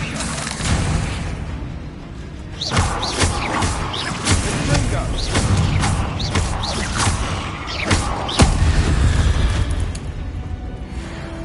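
Blasting spell explosions and magical combat in Hogwarts Legacy, with bursts, booms and crackling impacts over a dense, noisy background. A voice talks at times.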